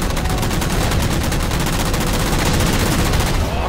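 Sustained rapid gunfire from Halo 4 as jammers are shot down, a dense unbroken burst of automatic shots running loud and close through the whole stretch.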